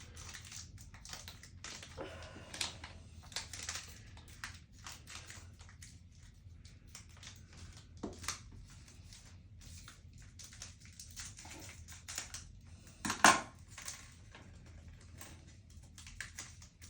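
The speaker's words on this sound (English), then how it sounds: "So I cut all the packages with a scissor to open them up." Scissors snip and crinkle through medication packages at a table, with scattered soft cuts, rustles and one sharper crackle, close and fairly quiet with no talk.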